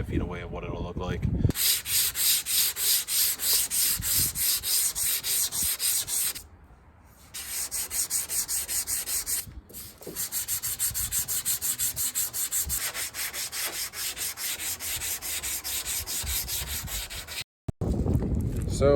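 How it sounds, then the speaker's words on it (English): Hand sanding on a fiberglass camper shell: steady, loud, rhythmic scratchy strokes for nearly the whole stretch, broken by a few brief pauses, with no talk. "So all the hand sanding's finished"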